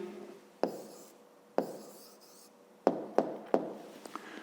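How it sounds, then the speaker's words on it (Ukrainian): A pen writes an answer on paper in several separate bursts of scratchy strokes, close and clear, with short pauses between them and sharp taps where each stroke begins. "Пишемо тоді відповідь"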